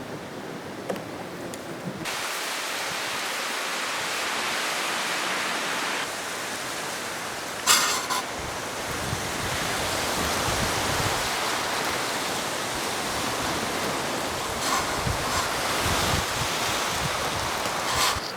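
A shallow river in Alaska runs past a canoe with a steady, broad rushing wash, close and continuous throughout, with a few brief knocks and splashes along the way.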